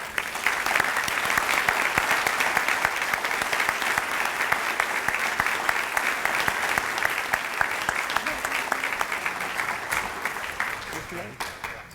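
A meeting audience at an annual charity gathering gives sustained, dense applause for a new board chairperson, a full steady clapping roar that tapers near the end.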